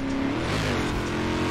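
Modified, lowered Ford Fiesta in Forza Horizon 4 racing close by, its engine droning steadily with a buzzy, wasp-like rasp and shifting pitch for the whole stretch.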